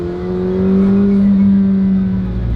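A McLaren Senna's engine hums with a smooth, sustained drone heard from inside the cabin, swelling slightly in the middle before easing back, steady and fairly loud.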